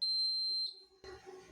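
Small piezo buzzer wired to a 9V battery in a simple kids' circuit, giving a loud, steady, piercing electronic tone that cuts off abruptly, followed by quiet room noise and handling.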